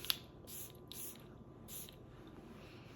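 Short spritzes from a bottle of BDK Gris Charnel perfume, three or four quick close hissing sprays in a row, quiet and isolated against a faint background.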